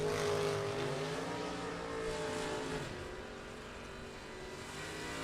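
Dragster and a Nova launching side by side down a drag strip at a Super Pro bracket race, a loud sustained roar of engines that peaks early then steadies and fades slightly as the cars pull away.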